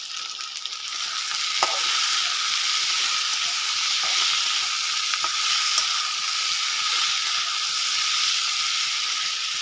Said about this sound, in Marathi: परत ह्याला परतून घेते